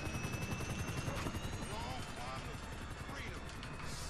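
A steady, rapid rotor chop of a helicopter in Grand Theft Auto fills the scene, loud and close, with faint gunfire and voices in the background.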